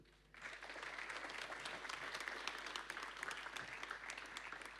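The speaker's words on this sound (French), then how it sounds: "C'est à vous, sous vos applaudissements, mesdames, messieurs." A seated audience breaks into applause for a talk on brain science, starting abruptly after a brief quiet moment and then holding as dense, sustained clapping from many hands, loud and unbroken to the end.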